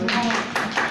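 Several quick hand claps in a row, close and fairly loud, in a classroom maths lesson, with voices audible alongside.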